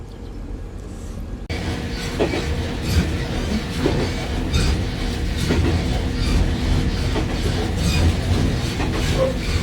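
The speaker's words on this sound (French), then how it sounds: "Pour un train qui fait 4 wagons." A four-car train runs through quiet Japanese countryside near a small rural station. It rumbles loudly and close by with rhythmic clickety-clack from the wheels on the rails, and no one speaks.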